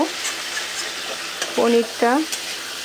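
Water hits a sizzling curry in a pan, giving a steady frying hiss stirred with scraping, then two short rising bursts of louder bubbling as more liquid goes in; no talking.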